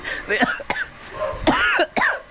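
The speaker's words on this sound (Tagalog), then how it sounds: "Napahamak talaga itong ubo" A person coughs several times in close succession, with harsh, breathy bursts spread across a couple of seconds, close to the listener.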